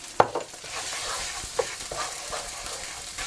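Garam masala being stirred into a banana peel curry base in a hot pan, a soft sizzle with a few sharp scraping stirs, close and brief.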